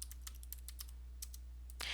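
Fingers type on a computer keyboard in quick, light clicks at close range, with a denser burst of keystrokes at the end over a low steady hum.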